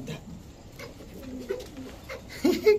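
Soft, low cooing from Pakistani Teddy, Racer and other fancy pigeons comes in a few short bursts, the loudest near the end, over a faint background hum.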